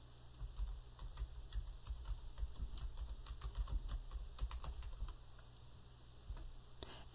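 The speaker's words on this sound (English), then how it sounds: "We'll go ahead and type in the full name." Typing on a computer keyboard to enter a customer's full name into sales software, quick quiet irregular key clicks in a close, otherwise silent setting, then a pause near the end.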